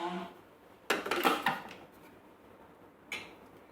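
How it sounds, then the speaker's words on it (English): A Thermomix lid being set in place on the kitchen appliance, giving a clattering burst of plastic knocks and rattles, then a single sharper click a couple of seconds later, fairly close and with no talking. "Now we're going to pop the lid"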